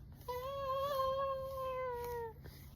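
A toddler imitates a cat's meow: a single drawn-out, wavering high-pitched meow lasting about two seconds, close and clear over a quiet room.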